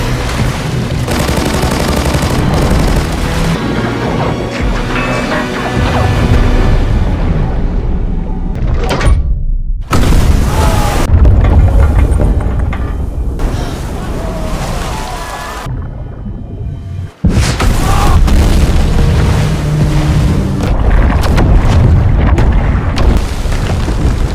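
Chained detonations of leftover World War II artillery shells in a film, loud sustained booming rumble with rolling blasts, a near-silent gap, then a sudden renewed roar.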